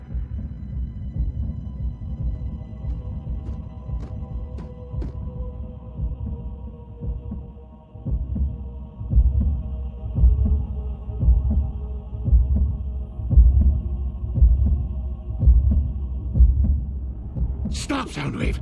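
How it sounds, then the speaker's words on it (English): A Cybertronian heartbeat from Transformers Prime pounds in a slow, steady rhythm of deep, throbbing beats over a low hum, loud and close, with a brief high burst at the very end. "A Cybertronian heartbeat?"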